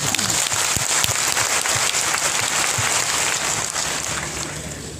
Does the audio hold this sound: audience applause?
yes